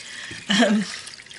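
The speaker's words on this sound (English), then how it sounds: "So I'm just putting my water, this is my big jug" Water poured from a big jug into a food steamer in a home kitchen, a short close splashing pour lasting under a second with someone talking around it.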